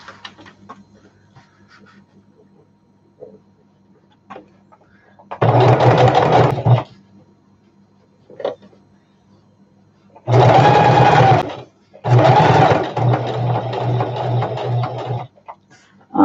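A sewing machine stitches a flannel diaper bag beside a zipper, running in three loud, steady bursts separated by quiet pauses, with faint handling clicks between them.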